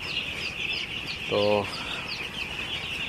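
Broiler chicks in a brooding shed on a cold, rainy morning keep up a steady high peeping throughout, and a short voiced sound rises briefly near the middle.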